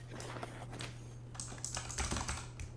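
Rapid typing on a computer keyboard, close by, with quick irregular clusters of key clicks and no voices.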